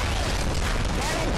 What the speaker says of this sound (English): That explosion looks so cool.